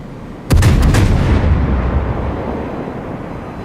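A warship's guns fire in the World of Warships game as a single heavy salvo of several rapid booms, followed by a long rumbling decay.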